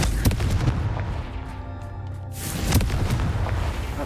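A Confringo spell explosion in Hogwarts Legacy: loud, close booming blasts with sharp impacts, set against dense, continuous game noise.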